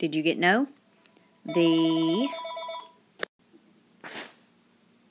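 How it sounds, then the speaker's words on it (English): A mobile phone's ringtone sounds in loud repeated bursts while a short exchange of speech happens between the rings, the tone cutting off after a few cycles. "That was my phone."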